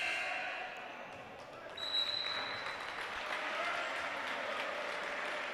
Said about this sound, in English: gets a nice round of applause